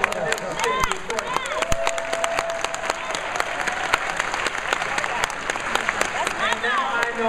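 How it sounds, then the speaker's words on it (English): Audience applause at a political gathering, a steady dense patter of many hands clapping throughout with crowd murmur and a voice mixed in beneath. "Why do y'all applaud these cities?"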